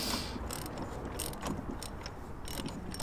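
A ratchet spins a 22mm socket on an extension while working on a Honda, producing a steady, close run of fine metallic clicking and whirring mechanism noise.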